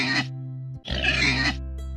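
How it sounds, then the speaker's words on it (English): A cartoon-style pig gives two loud, close grunting oinks separated by a short gap, over a steady musical tone in a children's farm animal learning song. "The pig says oink and rolls in mud."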